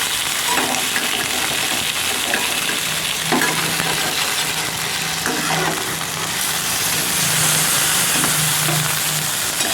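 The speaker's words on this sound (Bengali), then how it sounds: "দেখুন বন্ধুরা, চিকেনগুলো তেলের মধ্যে ছেড়ে দিয়েছি। এখন চিকেনগুলো ভালো করে ভেজে নেব।" Chicken pieces fry in hot oil with a steady, close sizzle and crackle. Occasional stirring scrapes sound over the bubbling, and no one speaks.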